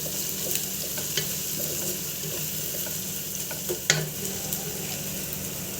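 Egg biryani masala fries in a pan with salt, giving a steady close sizzle. Scattered stirring scrapes and small clicks run through it, and no one speaks.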